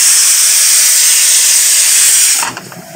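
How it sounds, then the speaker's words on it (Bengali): Potatoes boil in a pot for fish, giving off a loud, steady hiss of steam that cuts off abruptly near the end, leaving only faint clatter. "এদিকে বসিয়ে দিয়েছি আলু সেদ্ধ মাছের জন্যে"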